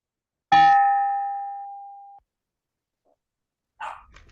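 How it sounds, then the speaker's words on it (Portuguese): A single clear bell strike opens an ecumenical vesper prayer at a meeting, ringing out and fading over a couple of seconds, followed by silence and then a brief muffled noise. "Ingrid, pode soar o sino."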